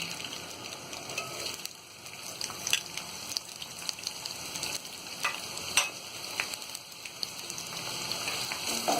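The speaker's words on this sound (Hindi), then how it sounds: "इसके बाद हम ये प्याज तलेंगे।" Onions frying in oil in a pan with cloves, black pepper, cardamom, bay leaf and cinnamon for egg biryani, a steady close hiss and crackle with occasional louder pops, no talking.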